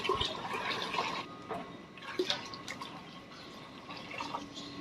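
Several litres of water are poured into a container to dilute DAP fertilizer. The splashing is continuous and fairly close, rising and falling as each litre goes in, with no voices.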